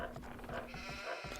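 Brief sheep bleating from a video game, a couple of short wavering calls over low background game ambience.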